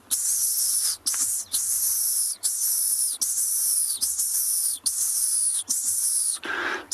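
A person imitates the contact call of a dwarf mongoose with a series of breathy, hissing bursts, about eight in a row with short gaps, close and fairly loud.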